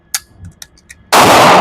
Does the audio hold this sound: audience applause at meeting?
no